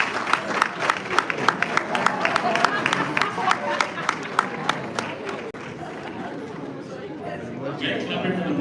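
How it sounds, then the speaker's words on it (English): Loud audience applause at a business plan competition in Ghana, dense rapid clapping with crowd hubbub and cheering throughout, thinning slightly toward the end. "We are clapping for the mortuaries."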